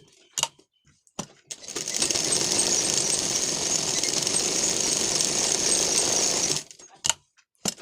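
A sewing machine runs steadily for about five seconds, stitching the lining of a simple blouse, with a few short clicks before and after the continuous whirring burst.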